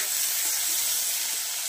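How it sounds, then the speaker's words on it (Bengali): Chopped onion frying in oil with black cumin for a fish curry, giving a steady, close high-pitched sizzle throughout with no talking. "পেঁয়াজটা ভাজা হয়ে গেছে অল্প করে"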